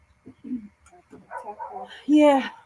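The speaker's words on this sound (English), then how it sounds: "Dogs barking." Dogs bark and yip in short bursts, with a louder bark near the end, mixed with people talking nearby.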